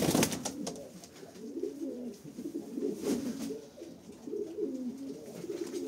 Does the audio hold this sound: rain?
no